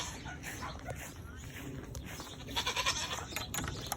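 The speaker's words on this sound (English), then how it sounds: "He will be the father to many goats on this farm" A goat on a farm gives short bleats, with a clearer burst of wavering bleats near the end, amid outdoor background noise and faint movement.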